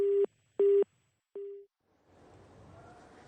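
A phone line gives a busy signal: two steady beeps and a shorter third one, then it cuts off into faint background noise.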